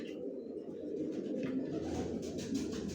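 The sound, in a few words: pigeons cooing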